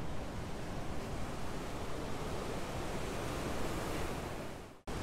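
Ocean waves roll onto the beach at Sunset Cliffs in San Diego, a loud, continuous surf roar with wind, cut off abruptly near the end.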